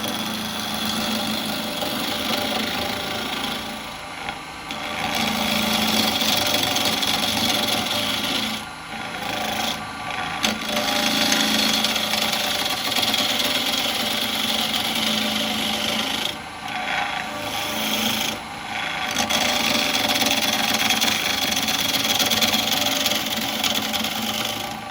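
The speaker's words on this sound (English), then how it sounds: "I'm going to go in for a spindle gouge first off and just take a couple of light" A spindle gouge takes light cuts on a walnut burr bowl spinning on a lathe, giving a steady, loud rasping hiss that runs continuously for the whole stretch, with a few brief dips as the tool lifts off.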